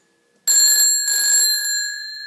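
An old World War II field telephone bell, wired as a doorbell, rings loudly and close, a sharp metallic clatter in two bursts with a brief break, the tone hanging on afterward.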